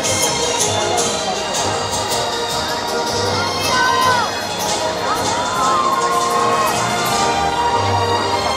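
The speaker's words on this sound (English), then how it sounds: "let's give them a big cheer and cheer them on" Crowd cheering and whooping for young riders at a Colorado rodeo, a steady broad roar from many voices with children shouting over the top, carrying on for the whole stretch.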